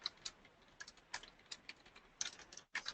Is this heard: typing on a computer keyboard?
yes